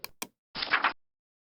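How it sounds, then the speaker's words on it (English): Two quick, sharp knocks on a door come close together, followed by a short burst of rustling noise and then silence. "then he heard a knock on his door."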